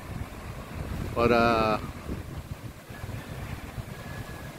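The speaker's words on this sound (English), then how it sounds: "it's just been crazy wind" Strong wind blows in a steady, rushing roar outdoors, with a voice briefly heard over it.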